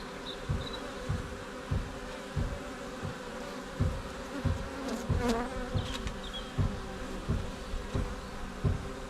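Honeybees buzz steadily around an opened hive in winter, a close continuous drone with individual bees passing near, punctuated by soft regular knocks or taps.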